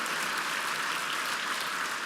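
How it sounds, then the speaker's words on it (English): Steady, dense applause from an audience at a charity brunch fundraiser, a continuous wash of many hands clapping throughout with no pauses or voices. "I'd also like to have one big round of applause for our floor event team as well as the AV department"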